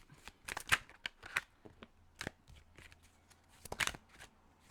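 Tarot cards are drawn and handled close up, giving crisp flicks and rustling shuffles in irregular clusters with no speech.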